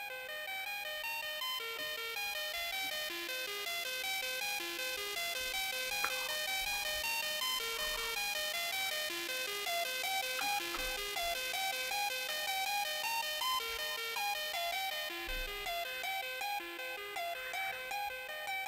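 A synth MIDI melody from a DJ remix plays alone: bright, bell-like stepped notes in a quick, repeating pattern at steady loudness, with light low thumps underneath and no voices.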